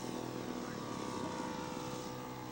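A scale model Super Cub airplane flies past with its flaps down in a slow STOL pass, and its propeller engine gives a steady, droning buzz that stays fairly loud throughout.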